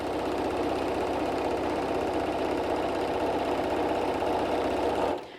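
Sewing machine top stitching fabric for an eye mask pillow, a fast steady mechanical whir and rapid needle chatter running continuously before stopping abruptly near the end, close up with no talking.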